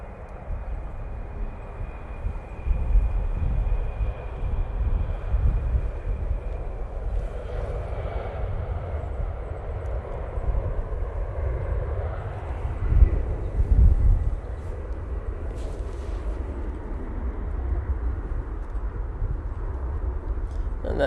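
Airliner departing Manchester Airport bound for Lisbon, a broad, rumbling engine roar that swells at the start and rises again midway, steady and fairly near, with voices talking over parts of it.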